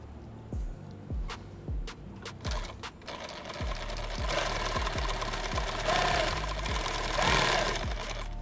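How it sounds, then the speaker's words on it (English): A sewing machine stitches elastic in short runs of steady rhythmic clacking, pausing between runs, then settles into a continuous motor whir under a faint mechanical hum. "I'm not going to sew continuous through here. I'm going to break that stitch line and go to the next one."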